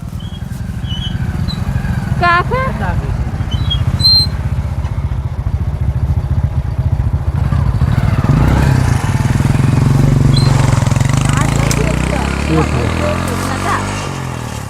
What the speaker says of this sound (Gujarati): બાઇક તો આવે છે